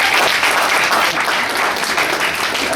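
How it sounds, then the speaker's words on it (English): Steady, dense applause from a comedy roast audience, loud and sustained throughout with no break, a continuous wash of many hands clapping together. "I say give him a round of applause."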